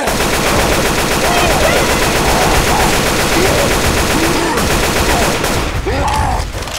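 Dense, continuous gunfire from several weapons pours at a Tank in the Left 4 Dead 2 video game. Loud, rapid shots overlap with game effects and faint voices, with the firing thinning slightly near the end.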